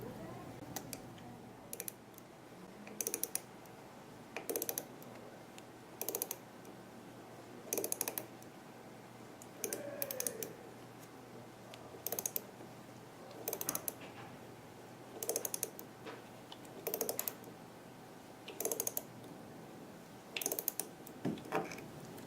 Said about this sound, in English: I'm going to finish placing it with the ratchet wrench.